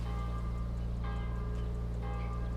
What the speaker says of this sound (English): The bells sounding at every hour at the cathedral.